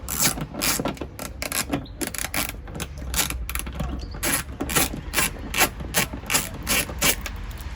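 A long Torx screw being unscrewed from a PT Cruiser tail light: a rapid, steady clicking of a ratcheting driver, close and distinct, repeating in even bursts throughout.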